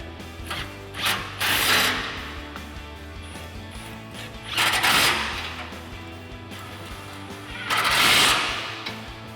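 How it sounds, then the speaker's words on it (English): An impact wrench with a 16mm socket tightens bumper bracket bolts on a 2016-2023 Toyota Tacoma, sounding as three loud, close whirring bursts separated by quieter pauses with light mechanical clicks. "Now we can tighten down our bolts to our bracket using our 16mm socket on our impact and a 16mm wrench."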